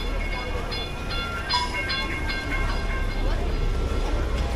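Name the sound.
small passenger train passing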